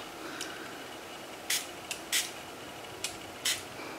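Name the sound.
spraying water from a spray bottle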